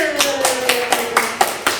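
Several sharp claps land at a steady beat over a held musical tone and faint voices in the background, as a children's class applauds the evangelist team.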